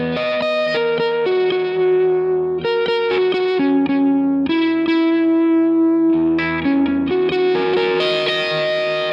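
Electric guitar solo phrase played through distortion and effects, mixing a blue note with a major seventh; sustained bent notes and quick runs ring out loud and close, with no voice over them.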